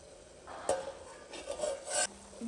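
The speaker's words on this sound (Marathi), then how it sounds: "पळीने एकदा हलवूयात।" A ladle stirs dry soybean vegetable in a pan, giving a few soft scraping and clinking strokes against the metal over a faint background, fairly quiet and close.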